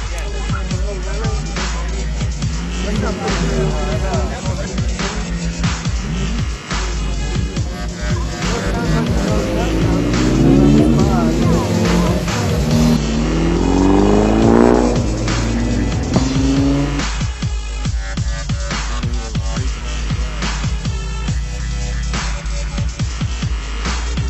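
A modified rear-wheel-drive drift car at a car meet revs loud and close, its engine rising and falling in surges with tire squeal, while people talk in the background.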